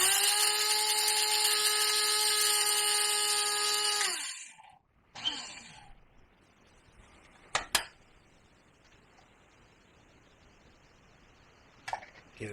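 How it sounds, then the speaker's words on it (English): An electric herb and vegetable grinder whirs loudly for about four seconds, pulsing dried tomatoes into powder, then stops. A few sharp clicks and taps follow in the quiet. "I like to use a grinder that's specifically for my vegetables and my herbs."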